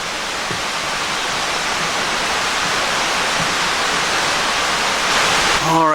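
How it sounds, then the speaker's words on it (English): Steady broadband rush of falling water from a waterfall on Jonathan Run in Ohiopyle State Park, continuous and fairly loud, with a brief faint voice near the end. "so I think we have a waterfall down there"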